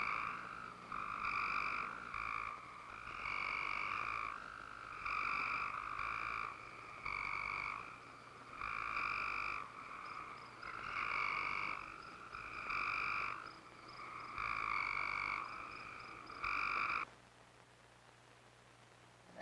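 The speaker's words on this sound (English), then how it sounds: "he is puzzled by the music of the frogs" A chorus of frogs croaks in steady repeated bursts in the Ozark National Scenic Riverways, loud and close, with brief pauses between pulses before it suddenly drops away near the end.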